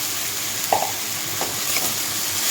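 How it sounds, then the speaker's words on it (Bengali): Vegetable chowmein noodles lightly frying in a pan, a loud, dense, close sizzle holding steady throughout, with a couple of faint soft scrapes of stirring underneath. "চাউমিনটাকে আমি হালকা ভেজে নেব"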